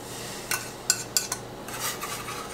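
A whisk working through hemp seeds, flax meal and chia seeds in a bowl, a few sharp clinks against the side followed by a soft, brief scraping swirl, quiet and close.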